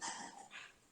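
A dog at home makes a brief, faint whimpering yelp, two short vocal bursts heard alone at a distance.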